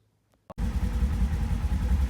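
A Polaris General XP utility vehicle on 32-inch tires with Gilomen clutching idles; after a short quiet moment the engine cuts in abruptly with a loud, steady, close rumble that holds to the end.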